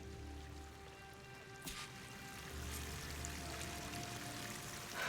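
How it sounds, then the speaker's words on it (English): Waterfall in Horizon Forbidden West, heard as a steady, fairly faint wash of pouring water that swells slightly partway through, with no talking. "That waterfall must be coming from somewhere."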